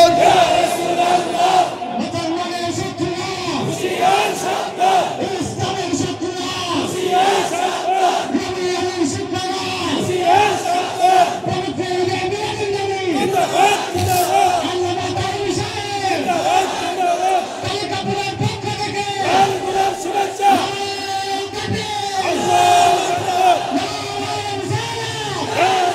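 A large crowd shouts and chants slogans together in reply to a Nara-e Takbir call at a religious gathering: a loud, continuous mass of massed voices rising and falling in waves over about half a minute.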